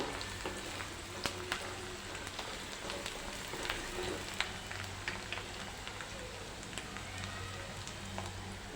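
Steady, quiet sizzling and crackling of finely chopped onion sautéing in hot oil, with scattered small pops and occasional stirring, heard close up without talk.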